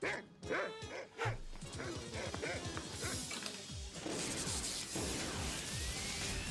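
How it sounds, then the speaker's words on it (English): Barking and yipping from a dog in a Power Rangers episode, mixed loudly with crashes, whacks and dense action-scene noise, the barks short and repeated under a busy, roaring background. "or is that just a stray dog?"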